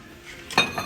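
A large plate and a bowl from a dinnerware set clink together in a single short, bright ceramic knock, followed by a faint softer tap, close and isolated.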